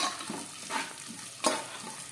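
Onions, cumin, mustard seeds and green chillies fry in hot oil for potato rice, a close crackling sizzle broken by a few soft stirring strokes, with no speech.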